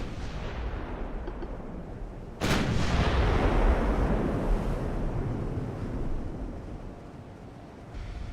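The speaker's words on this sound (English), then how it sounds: "We'll get my little guns firing on these guys." Battleship guns fire in a naval warfare game of Ultimate Admiral: Dreadnoughts, one sudden heavy boom that rolls into a long rumbling decay over constant sea and wind ambience.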